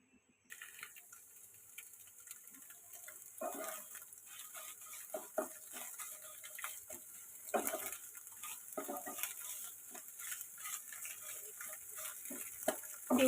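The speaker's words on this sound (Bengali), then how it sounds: "সবার প্রথমে আমি ডিমগুলো ভেজে নেব।" Eggs frying in oil in a pan, a steady close sizzle broken by frequent clinks and scrapes of a utensil, with no voices.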